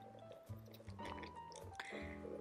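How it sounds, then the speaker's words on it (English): Thick, creamy vegan pecan pie filling pours steadily into a crust with soft wet drips and squishy plops close by, a low continuous flow. "We're just gonna pour our filling in there."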